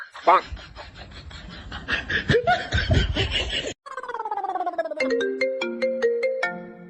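Mobile phone ringtone plays a loud melodic tune of stepped electronic tones, following a burst of laughter and chatter.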